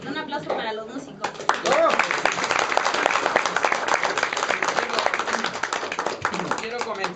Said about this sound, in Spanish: Un aplauso para los músicos.